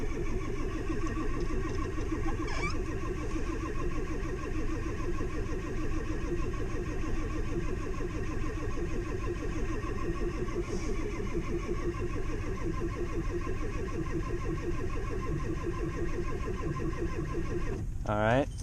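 A diesel engine on a gin pole truck cranks after its glow plugs are heated, a steady, rhythmic churning that runs nearly unbroken and fairly loud up close.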